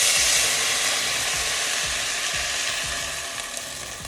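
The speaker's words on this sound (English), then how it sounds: "So we're gonna put the broth in now that the vegetables have started to soften, and we want to make sure that we scratch up all these bits of flavor." Turkey stock pours into a hot pot of softened vegetables, hissing and sizzling loudly while a utensil scrapes the bottom in repeated rhythmic strokes; the sizzle eases gradually toward the end.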